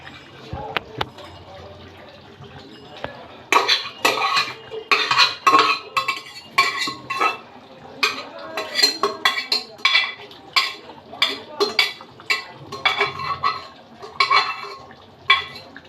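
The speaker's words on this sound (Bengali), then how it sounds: "এবারে মটনটা ঢেলে দেবো।" Mutton goes into a pot of spice paste for a steamed spiced mutton dish, heard as a run of rapid metallic scrapes and clatters from a spoon against the vessels, close and fairly loud.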